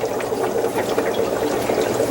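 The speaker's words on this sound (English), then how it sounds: "we'll pour it through the brine shrimp net" Orange-tinted water, colored like flavoring, poured through a fine brine shrimp net into a jar, giving a steady close trickling splash with no pauses and no talk.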